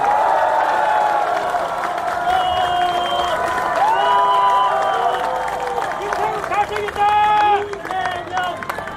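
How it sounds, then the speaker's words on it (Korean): Audience applause at a Korean political gathering, a continuous wash of clapping and crowd noise with voices and shouts mixed in throughout. "격려하는 의미로 박수 한번 부탁드립니다"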